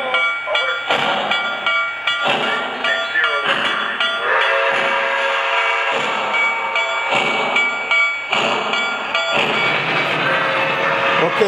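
New York Central Niagara steam locomotive working along the line, a loud continuous roar of exhaust with rhythmic chuffing pulses and whistle-like tones, while voices talk over it.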